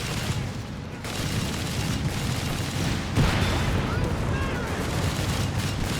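Dense battlefield gunfire from Company of Heroes 3, a steady rumbling wash of shots and distant blasts with a heavier burst near the middle, continuous and fairly loud throughout.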